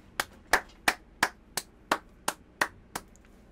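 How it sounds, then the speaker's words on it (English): One person standing and clapping hands, nine sharp, evenly spaced claps at a slow steady rhythm, close and alone with no talk. "Let me stand up and clap for y'all."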